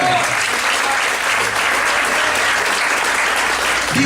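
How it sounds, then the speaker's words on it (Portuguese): A church congregation applauds in worship, a loud, sustained wash of many hands clapping close by, steady throughout with faint voices mixed in. "Pode aplaudir ao Eterno."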